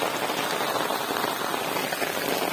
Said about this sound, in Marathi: पाऊस चालूच आहे आणि पाणी पण असं वाहत आहे